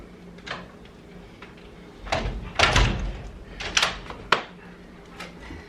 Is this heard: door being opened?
yes